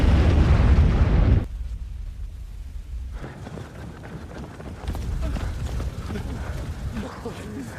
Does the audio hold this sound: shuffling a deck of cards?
no